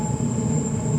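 A Transperth C series passenger train runs with a steady, loud rumble and a sustained high whine, continuous and close with no voices.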